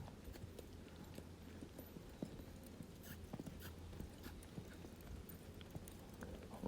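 Hooves of a young colt under saddle during early training, soft rhythmic clip-clop on dirt with faint creaks and scuffs, quiet and somewhat distant over a low steady background rumble.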